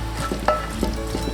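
Soft, lightly browned onions are scooped out of a hot pan, with short scraping and stirring strokes over a continuous close sizzle and a few light utensil taps.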